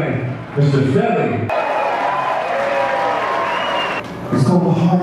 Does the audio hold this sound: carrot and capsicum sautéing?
no